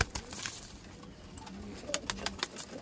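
Kaldom pigeons coo softly in a loft, giving a few short repeated calls over quiet background rustling.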